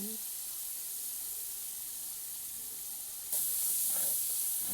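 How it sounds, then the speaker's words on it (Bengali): Faint, low hiss of ground spices being stirred in a pan for chicken biryani, rising to a brighter, louder sizzle near the end, with muffled voice-like sounds underneath. "সমস্ত মশলা দিয়ে আমি এখন একটু নাড়াচাড়া করে নিচ্ছি।"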